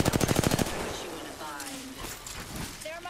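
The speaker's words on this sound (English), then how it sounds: "They're shooting at me." Apex Legends gunfire: a fast burst of automatic shots at the start, then quieter in-game sounds as the firing stops.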